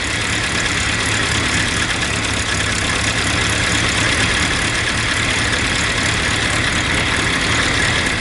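A WW2 jeep engine that is low on coolant idles loudly and close by in a steady, continuous rumble with no speech.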